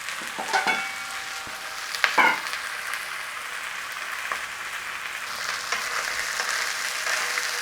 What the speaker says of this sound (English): Beef in. Let it get a little bit of a sear on and start to cook in there.